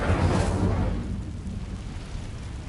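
A fiery spell blast from Hogwarts Legacy erupts in a loud, close whoosh that swells at the start and then tails off into a lingering low rumble.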